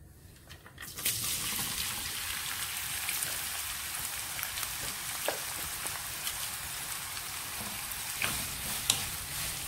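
Sliced onions dropped into well-heated oil for chicken Mughlai, a sudden burst of dense, rain-like sizzling that holds steady and close for the rest of the clip, with no talk.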